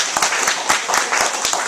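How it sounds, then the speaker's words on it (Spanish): Loud, energetic applause from a church congregation honoring the Lord during a sermon, a rapid dense clatter of many hands with strong rhythmic claps punctuating the wash, close and unbroken. "Fuerte el aplauso al Señor"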